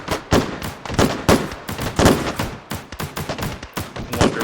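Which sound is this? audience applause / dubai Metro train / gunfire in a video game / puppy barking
gunfire in a video game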